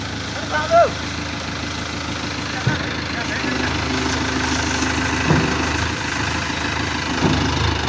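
A loader's engine idles steadily at a farm site, a continuous low rumble under faint background noise, with a brief voice near the start.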